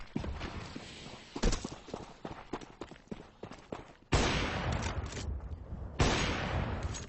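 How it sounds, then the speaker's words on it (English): Sniper rifle shots ring out in a Counter-Strike match on Dust 2, a few sharp loud reports standing out against a busy mix of game noise and footsteps. "James right now firing shots with the sniper rifle."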